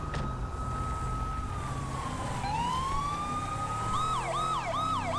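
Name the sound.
police siren in video game GTA LSPDFR, CHP siren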